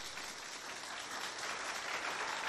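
A crowd at a school competition event claps steadily, a dense, continuous patter of applause that stays even and fairly loud from start to finish, with no voices standing out.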